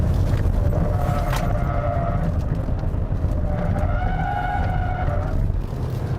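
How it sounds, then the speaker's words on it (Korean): A 2019 Hyundai Tucson facelift with a 2.0 diesel engine and HTRAC all-wheel drive, heard while driving: a steady, loud low-rpm drone with a bassy hum and faint tonal whine, continuous with no voices. "이 차 같은 경우에는 엔진 소리를 좀 더 부각을 시킨 것 같아요."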